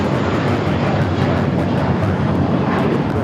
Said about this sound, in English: Air China 987 coming in from Beijing.